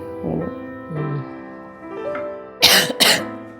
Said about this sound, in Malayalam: ഈ ചുമ കുറച്ച് ദിവസം ആയില്ല